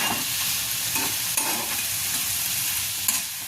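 Vetki fish fillets are gently stirred in a pan on low heat, a soft sizzle running under light scraping and occasional utensil clinks, with no talking.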